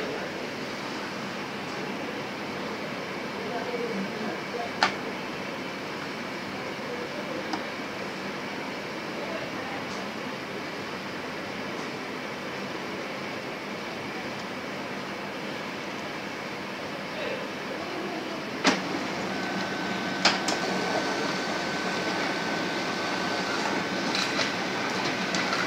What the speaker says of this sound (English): Now it was able to print successfully. You see that it just printed this out successfully